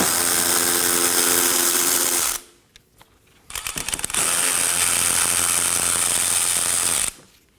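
A power tool removes 10mm and 8mm bolts on a 2011 Dodge Durango 5.7L V8 during radiator work, with two long, loud whirring runs split by a short ratcheting burst and a pause.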